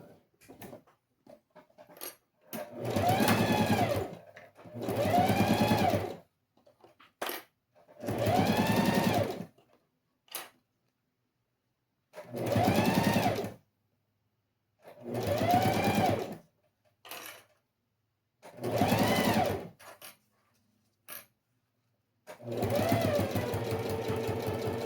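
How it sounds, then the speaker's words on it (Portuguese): A sewing machine stitches the seams of a fabric pencil case in about seven separate loud bursts, each a few seconds of fast whirring with quiet pauses between. "A minha agulha está no centro. E vamos costurar."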